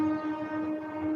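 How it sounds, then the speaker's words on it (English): A nearby train horn sounds as a steady, sustained tonal blare with strong harmonics, fairly loud and unbroken for about a second, with a low rumble beneath. "I'm sorry about the train's noise."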